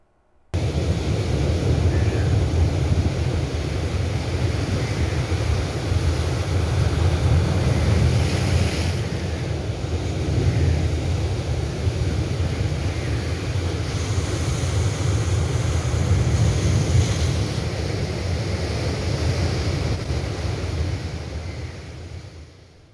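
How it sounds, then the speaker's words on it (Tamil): Rough sea waves surge and crash at Pattinapakkam beach in Chennai during Cyclone Nivar, a continuous loud roar of surf with wind buffeting the microphone and swelling gusts throughout, with no voices. "நிவர் புயல் காரணமாக சென்னை பட்டினப்பாக்கத்தில் வழக்கத்திற்கு மாறாக கடல் அலை 3 அடி உயர்ந்து பயங்கர சீற்றத்துடன் காணப்படுகிறது"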